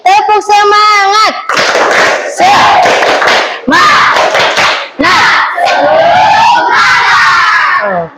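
Schoolchildren perform a loud clapping chant in a classroom, rhythmic bursts of many hands clapping in time with shouted, sung words, arriving in several energetic phrases separated by brief pauses.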